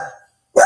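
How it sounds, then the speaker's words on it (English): A neighbour's dog barks nearby, one bark trailing off, a short silence, then another sharp bark. "That's because our neighbor's dog is out."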